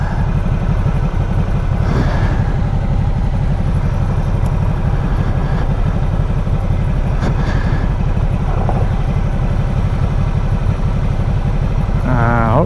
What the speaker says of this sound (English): This is where things get hard on a motorcycle, actually, right here, where we're going slow, not moving forward on difficult terrain.